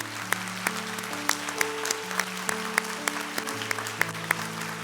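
Congregation applause honouring visiting parents at a Korean church service: crisp, fairly regular claps ring out over soft, sustained keyboard chords that play throughout, the clapping moderate in level rather than a full roar.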